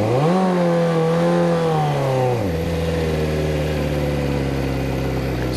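A manual car engine on a steep hill revs up, holds a strained drone, then drops to a lower steady hum, close and loud with no talking.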